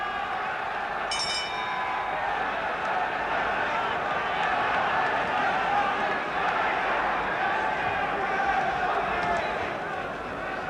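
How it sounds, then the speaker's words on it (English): Big crowd at a world championship boxing match in the Albert Hall, a steady, tense murmur of many voices filling the hall, with one brief clink early on. "Now the atmosphere in the Albert Hall, really tense and expectant. A big crowd here"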